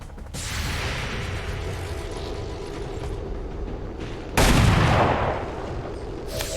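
Gunfire in the video game XCOM 2: a sustained rumble of combat shots and booms with a loud, sharp blast partway through, followed by continued heavy noise.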